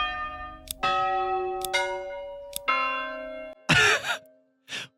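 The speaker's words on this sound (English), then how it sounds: "bell sound." A church bell in the Manor Lords village-building game rings several distinct, resonant strikes that hum and decay, then a short burst of rougher noise follows near the end, all fairly close and clear.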